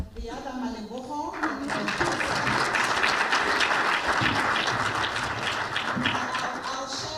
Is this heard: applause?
yes